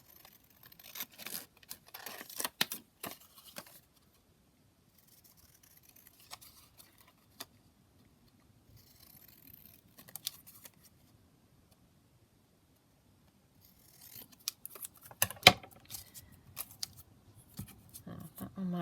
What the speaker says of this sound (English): So I'm just going to cut those out.